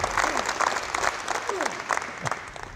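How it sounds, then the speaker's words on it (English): Players are applauded after a basketball conditioning and skills session, a small group clapping in a loose rhythm at moderate distance, with a voice speaking briefly over it. "If you give them a round of applause again, coaches."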